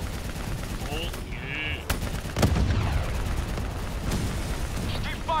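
Gunfire in the video game Black Ops 3 from a mounted turret, loud rapid bursts and booms layered with game effects, with people talking over it.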